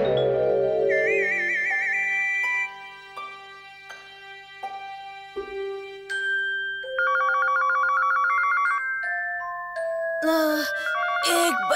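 Cartoon telephone ringing amid a busy run of electronic tones and chimes, loud and close, changing pitch throughout with a sharp burst near the end.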